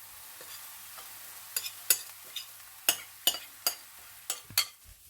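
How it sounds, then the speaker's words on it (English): Leftover bread, pulverized, being stirred into hot fodni oil and spice mixture in a pan, giving soft scraping strokes and light clicks of the spoon against the pan, spaced irregularly over a faint sizzle, close and fairly quiet. "So we're just stirring it now, and the whole bread mixture is getting well mixed with the spices that we had prepared"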